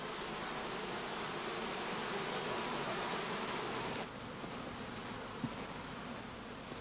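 Honey bees hum around straw skeps set out on flowering heather, a dense, even buzzing that fills the air, dropping slightly in level partway through, with a faint tap near the end.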